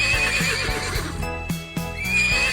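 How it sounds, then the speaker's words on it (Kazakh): A horse neighs in a clear, close whinny with wavering pitch, alongside a few muffled hoof-like knocks, as part of an animal-sounds cartoon. "Жылка."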